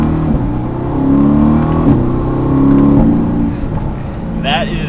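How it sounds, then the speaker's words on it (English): A Mercedes-AMG GT C Roadster's V8 engine rumbles deeply and steadily as the car accelerates in manual mode, its tone rising between quick shifts, while a person talks over it. "And now in manual, the V8 rumble. That is the typical AMG V8."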